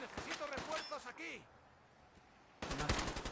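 Gunfire in the video game Fallout 4: a quick burst of sharp, loud shots, a pause with a brief metallic ring, then another rapid volley of reports.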